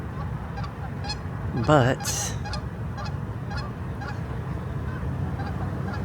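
Geese honk at a wetland in Alaska, one loud, near call standing out from repeated fainter honks scattered in the distance, over a steady background hiss, with a brief spoken word.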